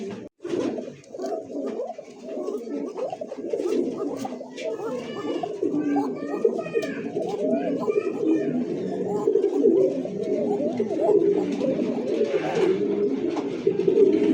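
Pigeons at a Bangladeshi pigeon market, with fancy breeds such as Lahori, Bombay, Koka, Beauty, Satin and Pouter, coo softly and steadily through the whole stretch while someone talks loudly over them.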